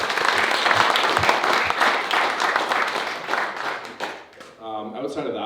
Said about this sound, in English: give you guys a round of applause as well